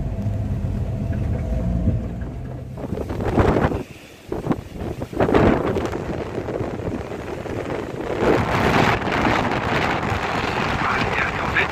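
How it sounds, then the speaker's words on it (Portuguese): A strong gale roars across Itanhaém beach, blowing sand onto the avenue, heavy buffeting wind noise battering the microphone steadily throughout with gusty surges. "O vento tá tão forte que tá jogando areia aqui na avenida."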